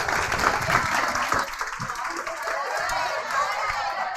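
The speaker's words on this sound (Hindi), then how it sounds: "एक बार जोरदार सबके लिए तालियां हो जाए।" An audience at a CA Foundation motivational event claps in a sustained, dense burst of applause, with crowd chatter and a voice faintly mixed in underneath.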